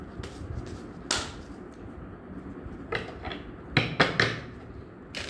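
Tarot cards being shuffled in several short riffling bursts, soft and close, with quiet pauses between them.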